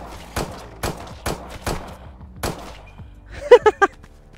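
Gunfire in the VR zombie-survival game Survival Nation VR: a series of sharp shots spaced about half a second apart, followed by a quick, louder cluster of three or four bursts near the end.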